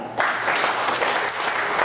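Comedy club audience breaking into sustained applause, a dense, steady wash of many hands clapping that starts abruptly and stays loud throughout, with no talking.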